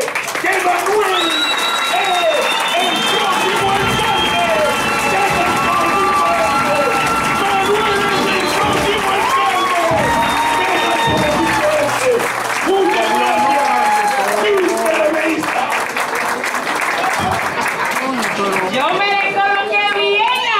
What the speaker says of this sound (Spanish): ese hombre a quien yo pido que todos le demos un fuerte aplauso, que se ponga de pie, que Manuel